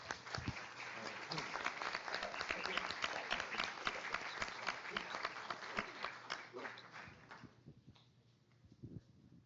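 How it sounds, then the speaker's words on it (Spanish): An audience applauds a panel at a corporate event: steady dense clapping for several seconds, moderately distant, thinning out and fading near the end. "Yo pido un aplauso para todo el panel."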